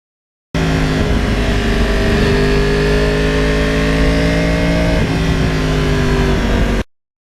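A 2020 Yamaha R1 motorcycle engine pulls hard and steadily, its rising tone climbing continuously for about six seconds with a brief dip near the end, loud and close with no talk.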